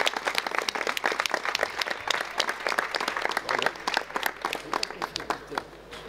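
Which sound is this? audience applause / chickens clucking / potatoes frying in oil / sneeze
audience applause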